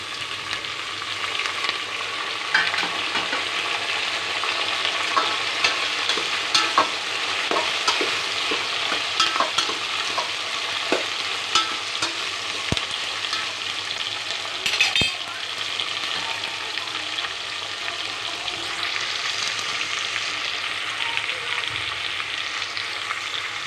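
Drumsticks with tomato, chillies, ivy gourd, okra, dried red chillies and curry leaves fry in a pan for sambar, giving a steady close sizzle with scattered scrapes and clinks of a spoon stirring, no voices.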